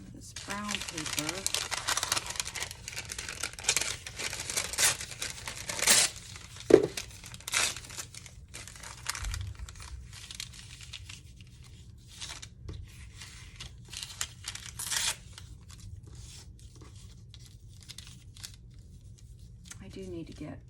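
Brown paper rustles, crinkles and crumples in irregular bursts close by while crafting, with occasional tearing sounds mixed in.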